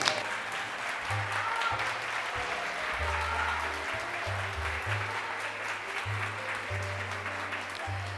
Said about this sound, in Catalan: Me voy a poner de pie y os voy a aplaudir